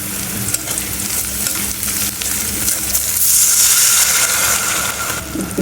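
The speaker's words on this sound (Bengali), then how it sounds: "পেঁয়াজ দিয়ে দিলাম রসুন কাঁচামরিচ লবণ দিয়ে দিলাম" Onion, garlic, green chili and salt sizzle steadily in a hot oiled pan while being stirred for a Bangladeshi dried-fish curry with taro and Malabar spinach leaves, a continuous close frying hiss that swells midway, with no talk.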